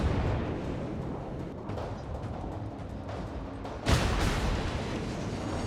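Naval gunfire in World of Warships, with a Montana battleship engaging ships including a Shima and a Moskva: a continuous dense rumble of distant cannon fire and explosions, with a sharp loud blast about two-thirds through.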